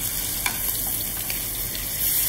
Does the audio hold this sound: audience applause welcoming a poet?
no